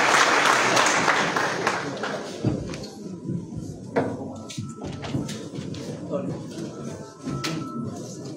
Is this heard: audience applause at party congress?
yes